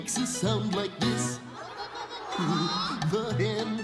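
A performer in a children's farm concert imitates a hen's clucking with the voice, a run of short rhythmic bursts repeated over a few seconds, close and fairly loud.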